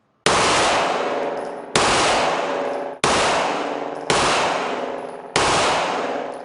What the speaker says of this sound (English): This is that same handgun with a switch.